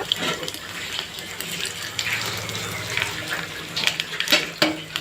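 Soft sizzling and crackling as spices, dried red chili and curry leaves temper in hot oil, with faint stirring and scraping clinks, continuous and fairly quiet, no one speaking.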